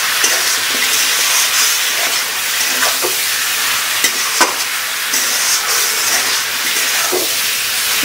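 Chicken pieces with turmeric are stirred in a hot pan for chicken kosha, a steady loud sizzle of frying broken by scraping spoon strokes and occasional clanks, with no talking.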